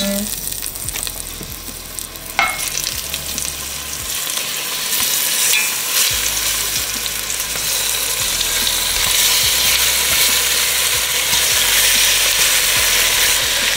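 Beef neck bones sizzle and fry in hot oil in a pan, a steady loud crackle that holds throughout with a few brief clinks and bumps early on.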